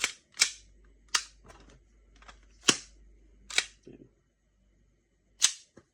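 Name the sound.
WE Hi Capa 5.1R airsoft pistol firing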